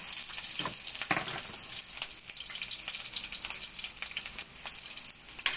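Onion and garlic sautéing in a pan for chop suey, sizzling and crackling up close with scattered stirring clinks and scrapes, no voices.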